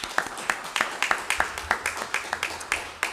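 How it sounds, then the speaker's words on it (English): Audience applause at a cultural center announcement, with a sharp cluster of claps repeating in a quick regular pulse, sounding close and moderately loud. "Let's give him another round of applause."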